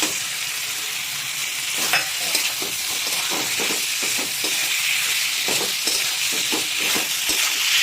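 Chicken with tomatoes being stir-fried for a chicken pickle: loud, close sizzling with repeated scraping and clinking strokes of a spatula against the pan in an irregular rhythm, no voices.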